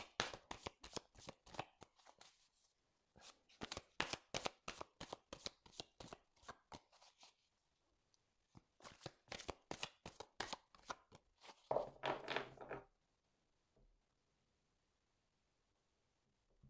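Tarot cards shuffled by hand in a quiet room: long runs of quick, crisp riffling clicks in two bursts, then a brief rougher shuffle before stopping, close and alone with no talk.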